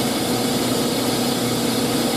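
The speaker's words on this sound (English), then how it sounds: "I can actually hear a little bit of tapping through the front, in the front." A running GMC Sonoma engine, just fitted with a new belt and tensioner, idles steadily and close by, a constant mechanical hum with faint tapping somewhere in the front.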